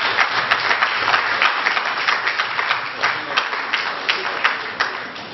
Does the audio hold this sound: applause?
yes